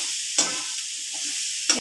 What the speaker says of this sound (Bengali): মশলাগুলো একটু কষিয়ে নেবো।